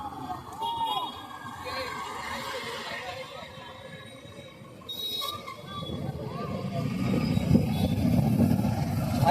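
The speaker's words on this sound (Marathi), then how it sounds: "ट्रॅफिक बघ ना" Road traffic in the town of Dapoli, with vehicle engines rumbling close by and growing louder toward the end, while people talk over the noise.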